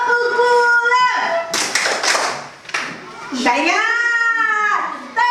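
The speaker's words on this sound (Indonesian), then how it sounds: "kita buat dulu tepuk pulang" Schoolchildren in a classroom perform a rhythmic going-home clapping chant at the end of the day, sung voices joined by two bursts of loud group hand claps in the middle.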